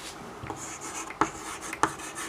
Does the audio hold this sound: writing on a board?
yes